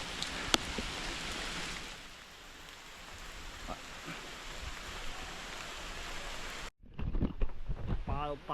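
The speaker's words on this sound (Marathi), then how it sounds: "जोरातच पाऊस आला." Heavy rain falls in the forest on a trek to Gorakhgad fort near Murbad, a broad steady wash of downpour with occasional drops; after an abrupt cut, people talk over the rain.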